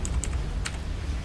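Computer keyboard typing, a few quick key clicks and taps close up over a low steady background hum.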